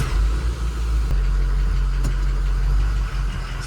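A 2006 Ford 6.0 Powerstroke diesel with smoking problems after an improper injector install idles nearby with a loud, steady, rough low rumble and a couple of brief dips and knocks.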